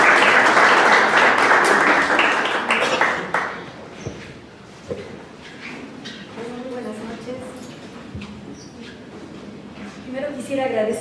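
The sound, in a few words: applause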